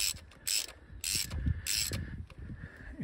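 Ratchet wrench snugging spark plugs into a Vauxhall 1.4 Ecotec engine, heard as three bursts of quick clicking close by, separated by short pauses.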